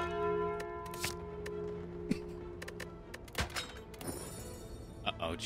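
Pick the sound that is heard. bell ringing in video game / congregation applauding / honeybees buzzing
bell ringing in video game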